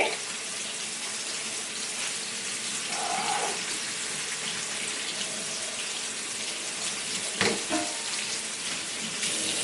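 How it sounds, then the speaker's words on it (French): Kitchen tap water runs steadily over vegetables being rinsed, a constant close hiss of flowing water with a few brief clatters from handling in the sink. "On va laisser l'eau couler, comme ça."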